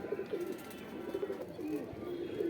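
Pigeons at a Saharanpur pigeon keeper's loft coo steadily and continuously, several birds overlapping in a soft low murmur throughout, with no talk.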